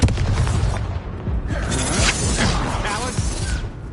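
A Bombarda blasting spell going off in the game Hogwarts Legacy, a loud booming explosion with crashing debris and a shattering burst, rumbling on for several seconds.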